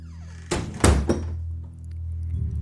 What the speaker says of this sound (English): before cheerfully rushing off to meet Lucas, letting the big wooden door slam shut behind her.